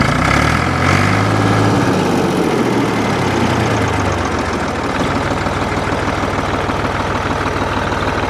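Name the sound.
Ford 4000 tractor engine running after charging system repair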